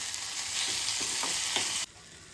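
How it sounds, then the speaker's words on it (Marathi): Potatoes sautéing in ghee in a pan, a close steady sizzle with a few stirring scrapes, cutting off abruptly near the end. "मी अजून थोडंसं तूप घेते एक दोन चमचे परतायचं आहे"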